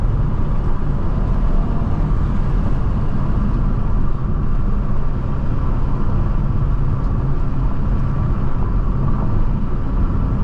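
Hyundai Veloster N with dual-clutch transmission driving along, a steady loud engine and exhaust drone with road rumble from inside the car, any crackles and pops buried in the continuous low noise.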